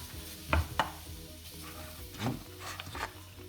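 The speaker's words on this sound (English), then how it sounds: "So to the pan, we'll throw back in our pasta" Cooked, drained macaroni tumbles back into a pan for a three-cheese dish, with a few soft clunks and scrapes of pasta and utensil against the pan over a faint background hum.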